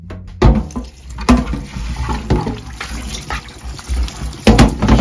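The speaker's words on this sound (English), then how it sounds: "now we will just rinse off this excess vinegar" Running tap water splashes and gushes in uneven surges, close and fairly loud, as excess vinegar is rinsed out of a kettle.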